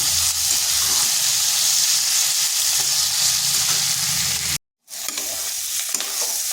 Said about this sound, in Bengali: তারপর টমেটো আর আলুটা একটু ভাজা ভাজা করে নিচ্ছি।